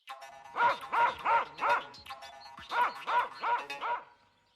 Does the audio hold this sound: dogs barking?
yes